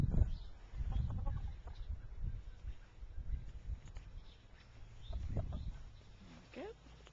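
Chickens cluck and murmur softly in short bursts, close by, while a person talks over them outdoors.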